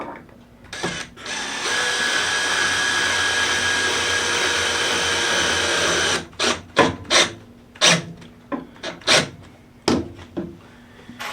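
A power drill drives 2-inch screws into a wooden chair: one long, steady whine runs for several seconds, then gives way to a quick series of short, loud bursts close by.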